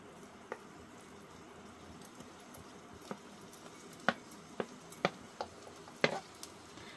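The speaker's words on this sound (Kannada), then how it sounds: "ಈಗ ನಾನು ದಪ್ಪ ಮೆಣಸಿನ್ಕಾಯಿ ಹಾಕ್ತಾ ಇದ್ದೀನಿ." Chopped capsicum dropped onto onions three-quarters cooked in a pan, giving a low steady sizzle with several sharp clinks and scrapes of stirring near the end, close by and with no talk.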